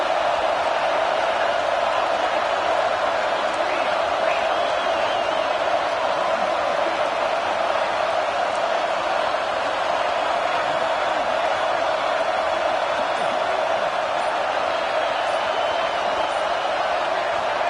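Crowd at a Nebraska football stadium cheering on a big third down. A broad, steady roar of many voices holds for the whole stretch with no breaks, under play-by-play commentary.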